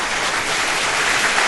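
Applause from a crowd, a dense, steady wash of clapping that fills the whole moment without a break.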